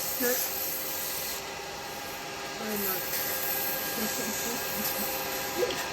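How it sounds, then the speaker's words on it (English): Sandpaper rubs against spinning wood in a steady, continuous rasping hiss, close by, with faint background hum and no talking. "now obviously we've got loads of sanding to do on this"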